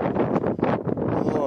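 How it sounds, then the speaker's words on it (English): Strong wind buffets the microphone in a steady, loud rumbling roar as a cyclist rides against it on Anglesey around dawn, with no talk over it. "It's windy as well."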